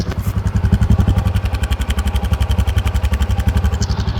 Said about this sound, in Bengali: বাইকটি আমি আপনাদেরকে স্টার্ট দিয়ে সাউন্ড কোয়ালিটিটাও শুনে দিব